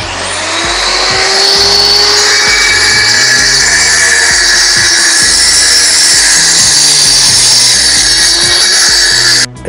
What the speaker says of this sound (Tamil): அவங்க அதை அளவு எடுத்து இந்த மிஷின் வச்சு கட் பண்ணுறாங்க